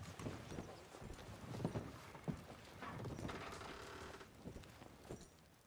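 Horse hooves clip-clopping in the Red Dead Redemption 2 video game, a steady run of near hoof thuds with creaking tack and mechanical rattles, with no one speaking.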